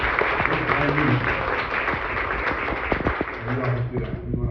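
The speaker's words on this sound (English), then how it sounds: "Y'all give them a round of applause." Congregation applauding while standing, a sustained broad wash of clapping with some voices and cheers mixed in, steady throughout.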